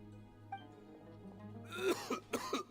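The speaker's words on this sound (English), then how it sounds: "Why is he coughing so much?" A few harsh, raspy coughs from a man in a video game, in quick succession after a quiet stretch, close and moderately loud over a faint steady hum.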